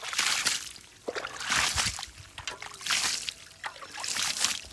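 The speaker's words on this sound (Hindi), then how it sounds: "इनको मैनुअली पानी लगाना पड़ता है" Water poured by hand onto vegetable plants in a hot-weather garden patch, heard as repeated splashing and trickling bursts with brief pauses between pours, fairly close.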